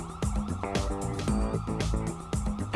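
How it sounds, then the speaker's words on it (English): Police sirens blare in the video game GTA V with the LSPDFR mod, a loud, continuous wailing and yelping of overlapping sirens that fills the whole stretch. "we just got perpetual sirens here. I'm trying to do my outro, and I've got all these sirens"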